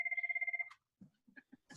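A phone rings in a rapid electronic trill of about ten pulses, loud and close, then stops; quiet, scattered low thumps and small sounds follow.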